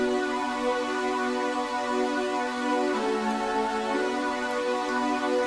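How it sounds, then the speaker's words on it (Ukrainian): Warm retro analog synth layers in the style of a Roland Jupiter or Juno play sustained, chord-like tones that hold steadily and loudly throughout, with a slight shift in the voicing about halfway through. "Це супер класичний звук для аналогових ретро-синтів"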